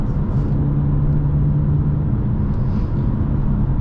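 A BMW car cruising at 90 to 100 km/h gives off a steady, loud low engine and road rumble with a sustained hum throughout and no speech over it.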